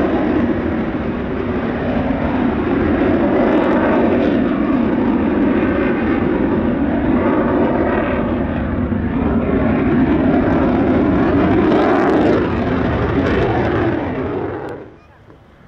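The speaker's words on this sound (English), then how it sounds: "the aircraft is maintaining more or less level flight throughout the manoeuvre, adjusting the control surfaces and the power settings in order to maintain altitude" Propeller aircraft of Indonesia's Jupiter Aerobatic Team flying a level manoeuvre at the LIMA Langkawi 2023 airshow, a loud, steady engine drone held throughout before dropping away sharply at the end, with a voice talking over it.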